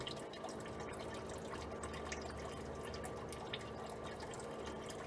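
Coolant from a 1995 Ford Ranger trickles out of the engine into a bucket. It makes a faint, steady drip-and-trickle of liquid over a low background hum and runs the whole time without pause.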